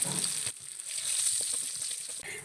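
Curry leaves crackle and sizzle in hot masala oil, a bright steady frying hiss heard up close with a brief break near the end.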